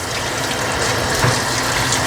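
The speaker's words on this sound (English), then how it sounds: "if you do that, you'll see the water squirt out" Water squirting from the nozzles of a Taylor C712 soft serve machine during cleaning, a steady close hissing spray that runs on without a break, with a slight surge near the middle and no voices.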